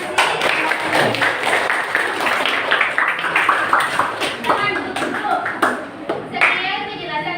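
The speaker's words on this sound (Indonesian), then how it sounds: "mari kita tepuk tangan untuk kelompoknya sih" Classroom applause for a student group after their presentation, with a burst of many clapping hands that thins out, overlapped by children's voices and talk.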